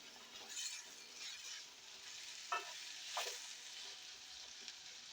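Boiled beans stirred into vegetables frying in a pan, a faint steady sizzle with a few soft scraping and clinking stir sounds, close by and without talk.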